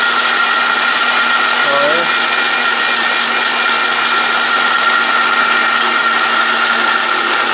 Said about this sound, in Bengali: এখন এই ব্লেন্ডারের কাছে দিবেন 1 ঘন্টার কাজ মাত্র 10 সেকেন্ডে করে দিবে